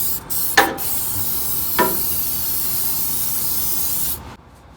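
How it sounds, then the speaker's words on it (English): Aerosol gasket remover sprayed onto a Ford 2.7 EcoBoost engine block to dissolve old silicone, a steady close hiss lasting about four seconds with two brief louder bursts, then cutting off. "Spray it on pretty good."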